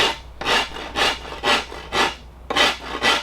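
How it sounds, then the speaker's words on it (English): A wood rasp shaping and rounding the grip of a primitive wooden self bow, heard as seven rhythmic, evenly spaced rasping strokes, close and fairly loud with no talking. "that's when we can switch over to the wood rasp and really round that grip in to where it fits well for you"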